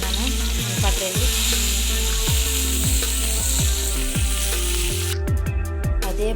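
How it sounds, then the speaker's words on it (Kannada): Eggplant and prawns fry in oil in a pan, with a constant loud sizzle and the repeated scrape and knock of a spatula stirring, close and steady with no speech. "ಇದು ಎಣ್ಣೆಯಲ್ಲಿ ಫ್ರೈ ಆಗಿದೆ."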